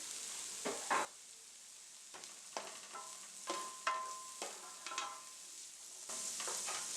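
Diced onion fries in sesame oil for shrimp fried rice, a quiet sizzle broken by several sharp scrapes and clinks of a utensil stirring the pan at an irregular pace.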